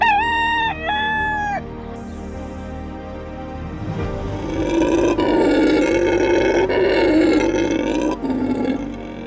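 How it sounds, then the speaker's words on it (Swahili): A rooster crows once, loud and close, its call rising and falling for about a second and a half, followed by a louder, sustained roaring animal call lasting several seconds. "ukubwa wa sauti anayoitoa jogoo anapowika inakadiriwa kuwa ni dB 100"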